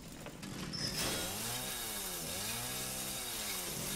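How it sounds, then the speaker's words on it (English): A chainsaw revs loud and close in the Resident Evil 7 video game, its engine whining and sweeping up and down in pitch over a harsh rasping drone, with no speech. "I didn't pick up Jack so he could take the chainsaw with him."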